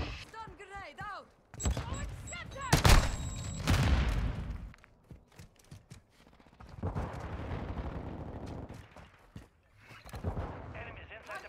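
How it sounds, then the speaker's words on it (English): Call of Duty MW2 gameplay with a stun grenade thrown, a sharp loud bang amid bursts of gunfire and a player talking over the action, then quieter stretches of game sound and voice. "Stun grenade out."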